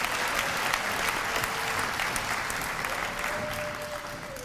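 A crowd applauds middle school Gold Key students at a school awards ceremony, a steady dense clapping that holds at full strength and eases slightly toward the end.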